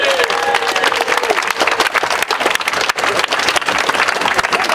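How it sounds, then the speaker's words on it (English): Sustained, dense applause from an audience at a Say No to Brexit rally in Plymouth, loud and steady throughout, with a brief whistle or voice near the start. "Now a really big round of applause for Simon."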